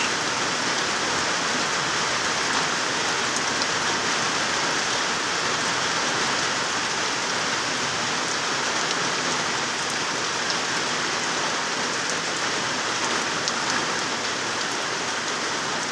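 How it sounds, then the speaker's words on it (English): Steady rain falls on plants and foliage, making a dense, even patter of drops on leaves that stays constant and moderately loud for the whole stretch, with no talking. "We're looking at raindrops on everything."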